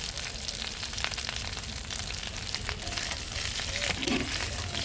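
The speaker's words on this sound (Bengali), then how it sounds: "এবার নাড়াচাড়া করছে" Vegetables for Bengali sukto frying in a pan while being stirred, a soft continuous sizzle with scraping and clinking of the spoon, moderately quiet and close, no voices.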